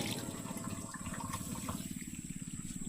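Water pours steadily into a container on a farm, a continuous gurgling splash at low volume with no talking.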